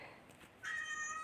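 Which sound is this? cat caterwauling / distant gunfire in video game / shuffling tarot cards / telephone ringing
cat caterwauling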